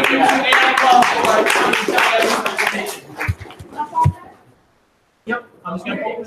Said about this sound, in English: round of applause for this, everybody